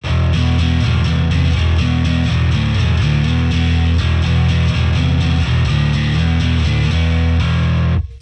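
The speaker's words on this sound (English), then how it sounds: "the ultimate combination of traditional, dirty, a lot of distortion, but with a clean and modern low end" Heavily distorted, dirty bass tone from a Marshall amp plugin by Softube, with a clean modern low end, played as a continuous loud riff with dense grinding overtones.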